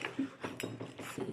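A metal utensil scrapes and clinks against a cooking pot while crab curry is stirred, producing soft, irregular taps and scrapes at close range, fairly quiet.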